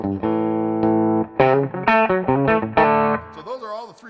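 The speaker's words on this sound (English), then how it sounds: "That's the humbucker sound" An electric guitar's humbucker bridge pickup rings out with fresh strings, a sustained distorted chord followed by a quick run of plucked, bending notes up close.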